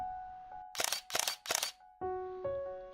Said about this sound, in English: the sound of a shutter,